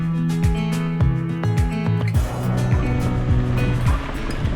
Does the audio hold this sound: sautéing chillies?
no